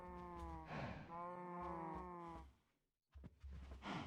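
Cows lowing in a farming video game, two long drawn-out harmonic moos in close succession, then a short pause before another begins, clear and close with no talk over them.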